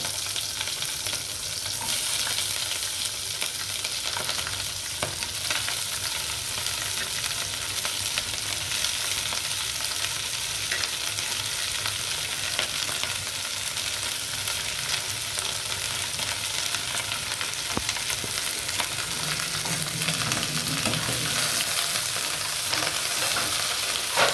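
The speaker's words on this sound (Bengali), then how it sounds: "এখন আমি পেঁয়াজটি ভেজে নেব" Chopped onions fry steadily in a pan for a home-style chicken patiala, with dried red chilies already added. The sizzle is a continuous, even crackle throughout, close and alone with no talk.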